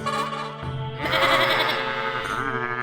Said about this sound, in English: I also found a sound effect for the warning trigger when the ram is about to ram the player